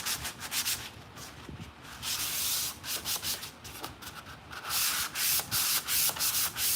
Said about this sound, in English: Between your coats of paint, you wanna go ahead and grab your sanding sponge.